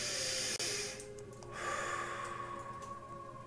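A deep breath taken in a quiet room: a long, soft, airy hiss of inhaling and exhaling that swells and fades over a few seconds, with no talk.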